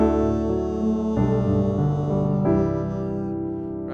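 Piano plays a gospel jazz chord progression in a slow worship ballad, sustained full chords shifting every second or so, with a passing chord leading back to the four chord, close and steady with no voices.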